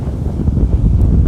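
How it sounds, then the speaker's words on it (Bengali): Strong gusty wind buffets the microphone of an OLA S1 Pro Gen 2 electric scooter riding through stormy weather, producing a loud, continuous low rumble and roar with no talking. "প্রচণ্ড হাওয়া দিচ্ছে।"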